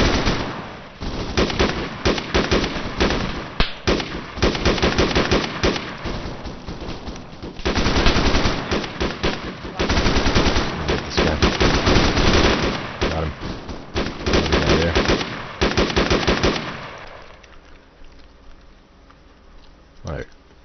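Gunfire from the video game Arma 3 crackles in dense automatic bursts and rapid single shots through most of the stretch while the player moves, then thins out near the end, with talk heard over it.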